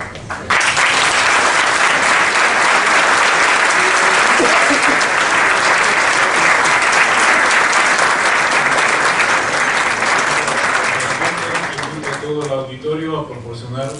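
Loud, dense applause from a seminar audience for the speakers at a strategy seminar at an army war college, starting abruptly and continuing steadily before fading as a voice begins speaking.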